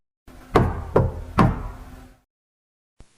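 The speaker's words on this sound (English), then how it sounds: "A knock, soft, polite. 3 taps." Three evenly spaced, soft, dull knocks land on a door, each with a short resonant tail, close by and alone, followed by silence and a faint click.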